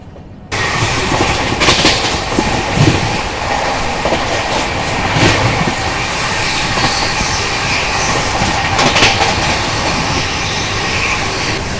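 The Nizamuddin-Pune AC Duronto Express rolls steadily on the rails, its wheels clattering loud and close over joints, with a continuous rumbling rush throughout.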